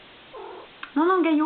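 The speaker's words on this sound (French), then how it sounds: "excusez-moi, c'est mon chat." A pet cat meows close by in a home, a short rising meow following brief speech from a woman, loud and near.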